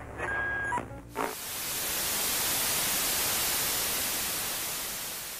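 Steady white noise meant to imitate womb sounds for a baby's sleep fills the clip, a loud, even hiss after a short burst of beeps at the start.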